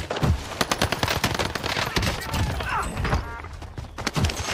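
Video game gunfire, with rapid automatic bursts and scattered shots crackling close and loud throughout, while a player speaks over the action.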